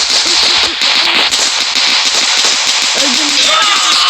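Bomb explosions in the Dude Theft Wars multiplayer video game, rapid crackling firecracker-like bursts under loud game noise, with someone talking excitedly over them.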